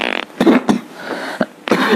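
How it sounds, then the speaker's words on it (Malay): A few short, sharp coughs from a nearby speaker during a Malay Quran reflection talk, two quick bursts followed by a louder one after a pause, with no talk over them. "Minta maaf batuk sikit"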